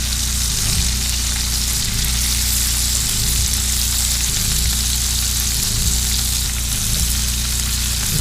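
Scallop coral frying in a hot pan, a loud, steady close sizzle that runs on without a break and has no voices over it.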